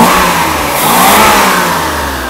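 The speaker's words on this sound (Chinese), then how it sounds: "你看大哥这么快速的拉油门" A 1993 Mercedes 300GE engine revs loudly and close up as the throttle is pulled quickly, climbing to a strong sustained roar, then easing back slightly.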